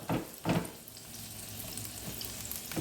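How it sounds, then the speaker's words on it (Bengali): Onions sizzle steadily as they fry in a pan for an egg and cabbage vegetable paratha, with a few louder stirring scrapes over the continuous crackle. "পেঁয়াজটা আমাদের পুরোপুরি ভাজতে হবে না, একটুখানি কালারটা চেঞ্জ হলেই হয়ে যাবে"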